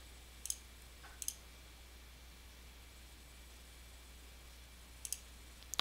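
A computer mouse clicks faintly in a quiet room with a low hum, giving a few crisp double clicks spread a second or more apart.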